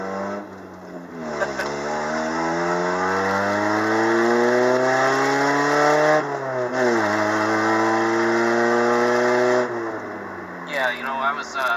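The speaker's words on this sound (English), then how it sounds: "Wasn't full throttle there, but I just wanted to rev it a bit higher" A 1989 Nissan Pulsar NX engine revs up and holds high, dropping back twice before climbing again, heard from inside the car with someone talking over it.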